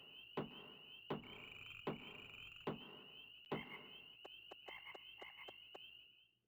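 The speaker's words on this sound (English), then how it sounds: "That particular frog sound effect" Frog croaking sound effect from the Nintendo 64 game Harvest Moon 64, a steady high synthetic tone punctuated by five evenly spaced croaks, then a faster run of short clicks near the end, heard alone.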